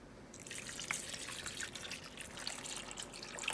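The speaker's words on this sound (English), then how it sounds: "what you're going to do is add the clamato" Clamato poured into a bowl of shrimp ceviche with mixed vegetables, a soft, steady trickle and light drips that run quietly and continuously with no talking.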